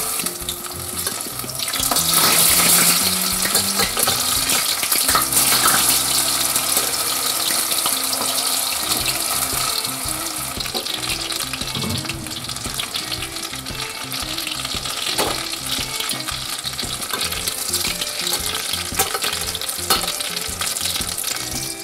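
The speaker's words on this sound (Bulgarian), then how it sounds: "И ги пускаме да се пържат." Breaded potato croquettes, dipped in egg and breadcrumbs, sizzle and crackle steadily in hot oil, a loud continuous frying hiss with occasional stirring clinks and no talking.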